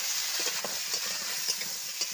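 Onions and green chillies sizzling steadily in hot oil, a continuous bright hiss with light stirring scrapes, no voices.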